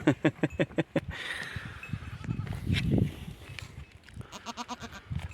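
Goats bleat repeatedly at close range, with a rapid series of quavering calls at the start, a rustling, louder stretch in the middle, then another run of bleats near the end.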